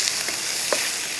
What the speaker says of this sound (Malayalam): ഇനി ഇതേപോലെ ഒരു 5-10 ചെറിയ ഉള്ളി അതുകൂടെ താളിച്ചൊഴിക്കുക